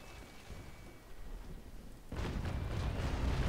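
Naval Action sailing-ship cannon fire: a sudden deep, rumbling broadside bursts in partway through, loud and booming over a low ambient drone, sustained like rolling thunder to the end.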